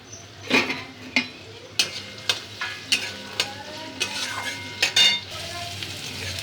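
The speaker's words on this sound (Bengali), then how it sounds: "কাঁচা লঙ্কা পেঁয়াজ একটু ভাজা ভাজা হয়ে গেছে।" Chopped onion and green chilli fry in oil in a pan, a steady sizzle broken by regular scraping and stirring clinks of a utensil, close and fairly loud with no talk.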